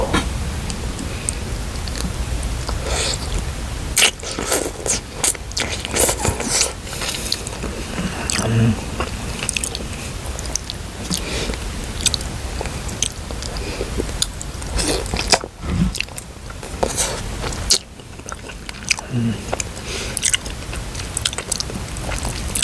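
Giant octopus coated in chili sauce is eaten close to the mic, with wet biting, squishy chewing and occasional crunches repeating steadily throughout at a strong, intimate level.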